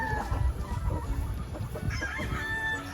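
Early bird pullets and bulik gamefowl chickens cluck in a dense, overlapping flock chatter, close and continuous, with a crow rising through it.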